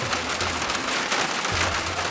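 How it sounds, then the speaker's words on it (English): Steady, dense rain drumming on a metal roof, a continuous hiss of many drops with a low rumble underneath. "there's no better lullaby than the rain on a metal roof"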